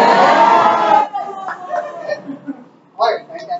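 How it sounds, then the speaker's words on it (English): A loud burst of crowd cheering and laughter from an audience at a humor talk fills the first second, then fades into scattered chatter and chuckles, with a short renewed swell near the end. "give me the loudest cheer I can possibly master if I'm looking good today"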